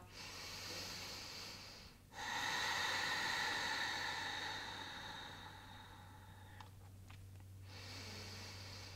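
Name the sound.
deep breathing during yoga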